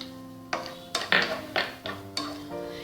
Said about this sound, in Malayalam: ആദ്യം നമുക്ക് നട്ട്സ് ഒന്ന് വറുത്തെടുക്കാം.